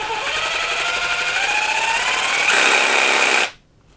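Ryobi 18V cordless jigsaw running freely at variable speed, a loud close buzzing whine that rises in pitch as the trigger is squeezed further, then cuts off sharply and winds down to silence.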